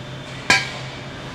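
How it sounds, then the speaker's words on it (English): A single sharp metallic clank as a metal grill grate is lifted out of an American Muscle Grill AMG36 searer-burner gas grill, one bright ringing hit fading quickly over a low steady hum. "I'm going to remove the grates here so you can see inside the grill easier"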